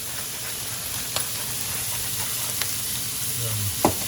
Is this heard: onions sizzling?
yes